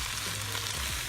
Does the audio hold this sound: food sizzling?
yes